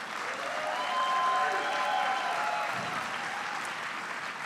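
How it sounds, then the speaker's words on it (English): A crowd applauds at a President Biden speech on Micron's chip manufacturing investment, a dense, steady roar of clapping that swells and then holds for a few seconds. "a round of applause again for Shawnee Davis"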